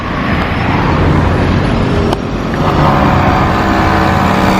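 Steady, loud road noise from inside or beside a car driving along a street in Pattaya, with an engine hum and tyre rumble that holds throughout and a faint click in the middle.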